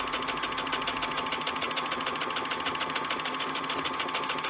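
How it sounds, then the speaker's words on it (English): A sewing machine stitches a one-step automatic buttonhole with zigzag, running as a fast, steady, even mechanical whir close up and alone. "And it's going around the keyhole bit with a zigzag. And it'll come back down with a zigzag."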